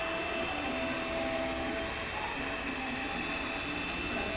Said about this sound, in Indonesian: Mixer masih dengan kecepatan rendah ya. Saya masih memakai speed nomor 1 sampai benar-benar kalis.